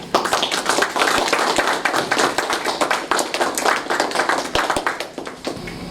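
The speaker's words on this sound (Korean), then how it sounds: "우리 힘차게 한번 박수하면서" Audience clapping at a Korean community forum lecture, a dense run of hand claps from a sizeable crowd that continues steadily and close with no talking over it.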